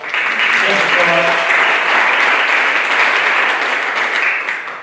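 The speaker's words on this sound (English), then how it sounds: "let's first of all give Daryl and Zachary a big round of applause" An audience gives a full, sustained round of applause for two speakers after a talk, dense clapping that stays loud and tapers slightly at the end, with a voice briefly heard early on.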